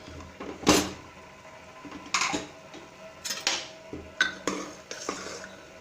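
A metal lid comes off a pot of cooked Sri Lankan milk rice, producing a few scattered clinks and clatters, close by and moderately loud, with no one talking.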